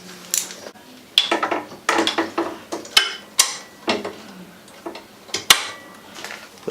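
A wrench ratchets in quick, regular clicking strokes while tightening a club style fairing mount on a Harley Dyna motorcycle, with a sharp metallic click at each pass, close and clear with no talking.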